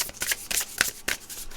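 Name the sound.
shuffling tarot cards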